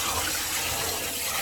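Water draining and rushing out of a tub after rinsing collard greens, a continuous broadband gushing hiss that holds steady and fairly loud throughout.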